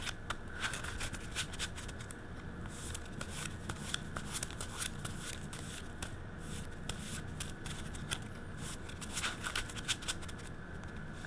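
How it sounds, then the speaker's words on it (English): Continuous riffling and flicking of playing cards being shuffled, a steady rustling patter with repeated short bursts, close by and alone. "let's shuffle the deck"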